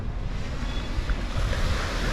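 Waves breaking on Padang Beach in West Sumatra, near the Al Hakim mosque, a steady roar of surf mixed with gusty wind noise on the microphone. No voices are heard.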